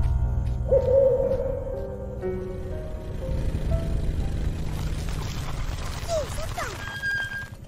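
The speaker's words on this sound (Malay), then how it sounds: "Burung hantu." An owl hoots a few times at a distance, low and soft, over background rumble and some brief voices.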